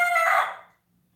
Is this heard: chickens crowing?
yes